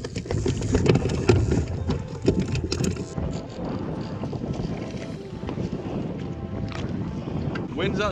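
Gusty wind buffets the microphone on open water from a boat, rumbling loudly at first and then easing to a steadier blow.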